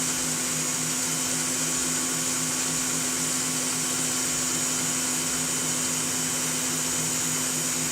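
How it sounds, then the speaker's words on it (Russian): A heated stand mixer runs steadily whipping marshmallow mixture as syrup is poured in, a constant loud motor whine and hum with no pauses and no voices. "У меня миксер с подогревом, но вливаю я сироп так, если бы у меня миксер не грелся."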